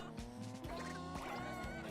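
A car-like engine loop plays in Katamari Forever, a continuous buzzing, harmonic-rich drone that rises and dips in pitch, loud and steady throughout.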